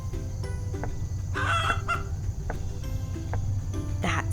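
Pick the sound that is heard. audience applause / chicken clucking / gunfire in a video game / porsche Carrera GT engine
chicken clucking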